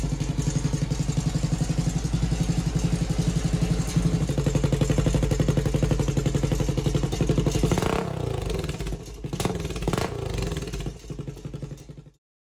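A CBXT350 custom motorcycle engine runs loud and close with a steady rhythmic clattering rattle, then sputters unevenly and cuts off, leaving silence at the end.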